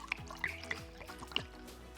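Pinot Grigio white wine is poured into risotto in a pan, giving faint, close drips and a light trickle of liquid.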